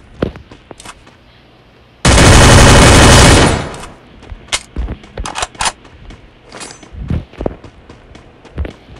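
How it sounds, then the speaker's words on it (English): Free Fire video game gunfire: one loud, sustained automatic burst lasting over a second, then scattered sharper shots and impacts from nearer and farther away. "I hear shooting."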